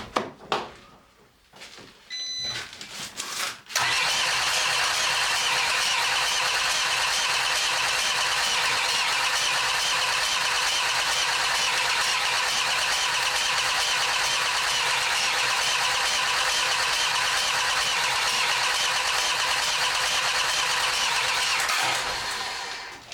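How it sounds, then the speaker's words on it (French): A Peugeot Expert van with a swapped engine cranks continuously for about eighteen seconds without catching, a loud, steady, even grinding after a few brief knocks and handling noises, then cuts off abruptly. "Il va falloir chercher pourquoi ça démarre pas."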